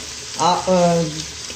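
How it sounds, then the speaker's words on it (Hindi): Chopped tomatoes frying in a pan for Hyderabadi mutton curry, a soft steady sizzle running underneath a brief tonal, voice-like sound near the middle. "अब टमाटरों को 3-4 मिनट फ्राई करना है कि टमाटर जो है इसमें गल जाए"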